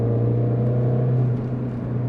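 A 2007 Mini Cooper S with its 1.6-litre engine runs hard on a back road, giving a steady, loud, throaty drone with a strong low hum that holds fairly even and slightly rises and falls throughout.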